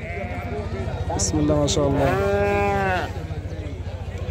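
A sheep at a livestock market lets out one long, wavering bleat in the middle, while someone speaks over a constant low rumbling hum.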